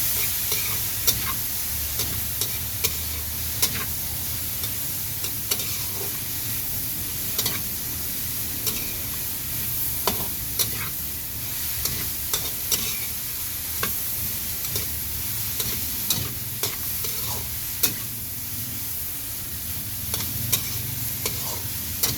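Broccoli and cauliflower stirred in a frying pan for a vegetable sauté, a steady sizzle with regular scraping clicks of the utensil ticking through, close and continuous.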